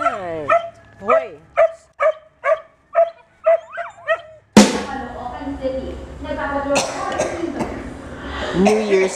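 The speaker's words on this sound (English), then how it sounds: "Dogs." A dog gives a rhythmic series of about nine sharp, close yips and barks, then a burst of clattering noise and more scattered yelps and whines mixed with a person speaking.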